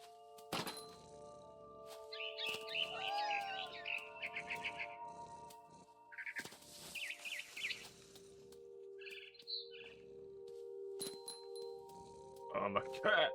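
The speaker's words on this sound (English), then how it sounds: "Then I heard chirping outside my window. Hello, birdie. It was a barn swallow going back to her nest." A barn swallow chirps in the video game What Remains of Edith Finch, with bursts of bright tweets in several short clusters over game music and soft thumps while a person talks.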